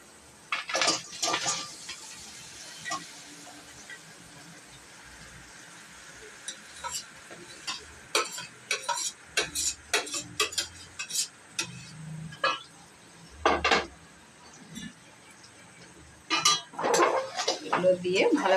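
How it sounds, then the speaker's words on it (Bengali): Fried crab and potatoes are stirred into cooked masala in a pan, giving a run of irregular close metallic scrapes and clinks of a spoon against the pan, with quieter pauses between bursts. "এগুলো দিয়ে ভালো করে নাড়িয়ে এটা মিশিয়ে নেব।"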